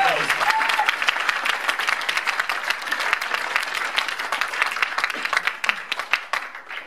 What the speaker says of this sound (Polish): Brawa dla wyróżnienia gitarzysty